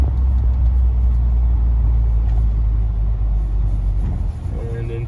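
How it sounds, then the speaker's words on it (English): A car engine rumbles steadily while the driver downshifts a manual transmission from third to second, feathering the clutch, as it approaches a stop sign. The low drone is loud and continuous, with a slight dip near the end. "We're in 3rd, come down to 2nd, feather the clutch."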